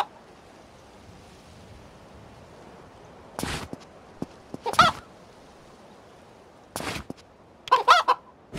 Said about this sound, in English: A rooster in the bag.